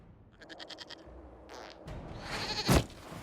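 A goat in Dragon Age: Inquisition bleats in a quick wavering run of pulses, then softer noises and a rising rush of sound follow, moderately quiet with no voices.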